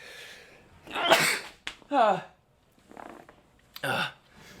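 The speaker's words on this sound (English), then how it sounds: "I'm going to sneeze" A close, loud sneeze blown straight into a microphone, with gasping, throaty bursts before and after it as voices react nearby.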